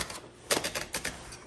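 Handle of a 1961 Underwood-Olivetti Studio 44 typewriter turned to feed paper, a short run of close, crisp ratcheting clicks, about five distinct snaps, alone.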